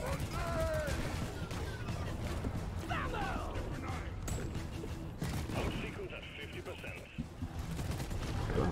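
Gunfire in the co-op video game Deep Rock Galactic, dense rattling shots and mechanical clatter mixed with in-game effects, loud and continuous throughout.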